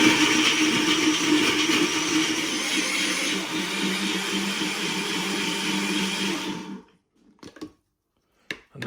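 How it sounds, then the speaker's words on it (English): A loud blender whirs steadily for several seconds blending whole mango and spring water, then stops abruptly, followed by a few brief clunks and clicks as it is handled. "the mango goes in the blender, skin and all"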